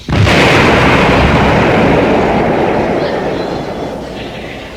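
A voice imitates an explosion: a sudden loud blast that swells into a long, rumbling roar and slowly fades over several seconds.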